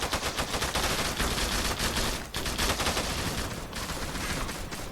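Rapid bursts of AK-47 automatic fire in the Turkish online shooter Zula, dense loud cracks repeating almost continuously with one brief gap, no voices.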